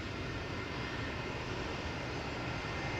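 Jet airliner engines spooling up at Amsterdam Schiphol Airport after aborted takeoffs, a steady broad roar holding even and distant throughout with no voices.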